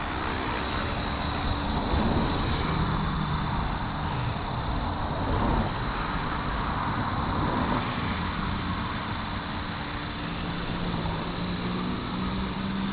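A repaired Blade Fusion 360 RC helicopter hovers in a mild test flight, its rotor and motor giving a continuous loud, steady whine and buzzing drone close by throughout, with no speech.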